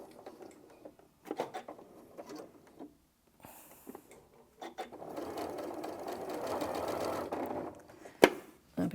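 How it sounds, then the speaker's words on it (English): A home sewing machine stitches quilt binding, its motor whirring steadily close by for several seconds after a few short starts and stops, ending with a sharp clunk. "we're going to sew and stop 1/4 of an inch away from this edge here"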